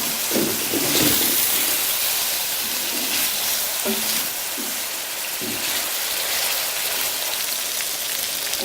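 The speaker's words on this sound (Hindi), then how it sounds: "अब इसको हम थोड़ी सी देर इसकी बुनाई करेंगे ताकि ये अदरक और लहसुन का पेस्ट जो है पक जाए" Ginger and garlic paste frying in a pan for chicken karahi gives a steady, loud sizzling hiss, with a few faint clicks of stirring and a voice in the first seconds.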